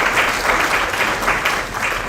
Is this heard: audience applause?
yes